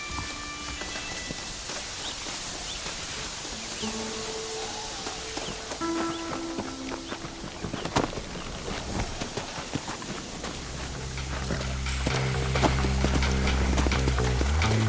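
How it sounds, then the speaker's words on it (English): Horse hooves clip-clopping in Red Dead Redemption, set in Mexico, scattered hoof beats over game ambience and music, growing louder and busier toward the end. "Come on, horses are over here."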